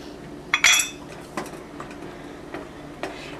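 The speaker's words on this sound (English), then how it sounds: "I'm gonna add the cumin and the coriander. Give it a nice stir." A metal spoon clinks against a soup pot while cumin, coriander and cinnamon are stirred into pumpkin soup, a sharp clatter followed by several lighter, spaced taps, close and clear with no talking.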